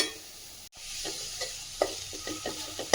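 Spinach and coconut thoran is stirred in a hot pan, with soft scraping strokes repeating over a faint, steady sizzle and a brief clank near the end.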